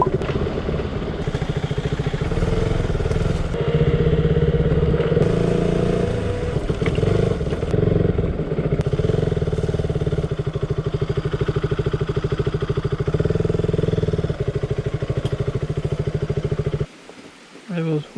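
A motorcycle rides along a road in Kerala, its engine droning steadily up close with wind rush and rattling, before it suddenly drops off near the end.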